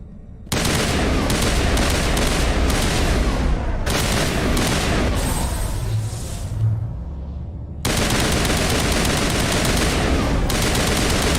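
Dense sci-fi gunfire in Mass Effect Legendary Edition as Geth and bugs shoot each other, with rapid automatic bursts that run loud and nearly continuous, a short drop-off in the middle, then resume.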